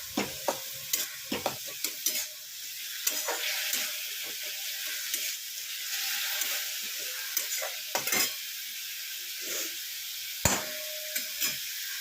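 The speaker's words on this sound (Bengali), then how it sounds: "এবারে একটু জোর আঁচ দিয়ে ভালো করে ভেজে নেব।" Softened onions fry and sizzle in a pan over high heat, a close steady hiss broken by frequent sharp clicks and scrapes of stirring.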